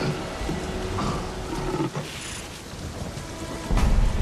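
Thunderstorm with steady rain hissing on surfaces, a low rumble of thunder building, and a heavier boom near the end.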